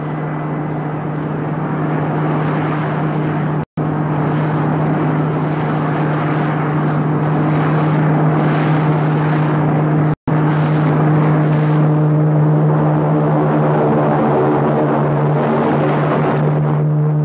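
An XV-2 aircraft approaches for landing, a loud, steady droning engine tone with a strong low hum and a whooshing overlay, broken by two brief dropouts, growing slightly fuller toward the end.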